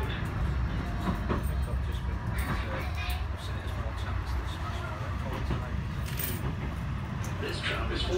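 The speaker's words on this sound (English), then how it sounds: "This tram is for Stargate." Tram running along the track in Blackpool: a steady rumbling roll with rattling and clattering from the carriage, heard from inside. Faint voices come through under the noise.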